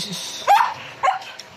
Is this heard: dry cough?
no